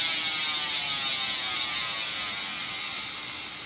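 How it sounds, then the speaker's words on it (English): An Industry Nine Hydra rear hub with 690 engagement points on a mountain bike freewheels close by, giving a loud, smooth high-pitched buzz of very rapid clicks that slowly fades as the wheel slows. "We're talking about 690 engagement points that would sound like this."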